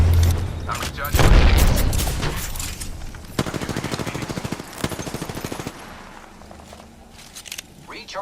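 Gunfire and explosions in the shooter Apex Legends: a loud boom followed by rapid machine-gun bursts in steady rhythm, then quieter scattered shots, with speech over the action.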